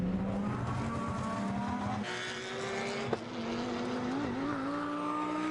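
BMW, Porsche and Lotus GT race cars at Magny-Cours in an endurance race, their engines droning and shifting pitch as they pass at a distance, with a higher whine coming in midway and a sharp brief click, no talking.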